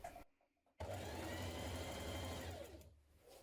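A sewing machine stitches around the armhole of a jumpsuit, whirring in a steady close hum for about two seconds after a brief stop-start, then slowing to a halt.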